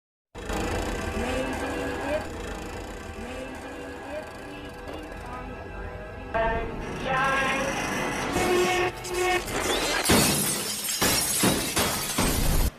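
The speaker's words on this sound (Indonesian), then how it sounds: "Seluruh lampu di ruangan pecah tanpa sebab dan yang bisa dilihat hanya kegelapan" In a horror film, all the lights in a room shatter at once, with bursts of breaking glass and crashes rising out of a tense, droning score and ending in a loud, dense cascade.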